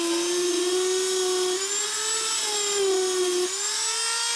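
A Dremel flex shaft with a burr carves down the side of a letter A in wood, a steady high rotary whine running throughout, its pitch dipping briefly under load.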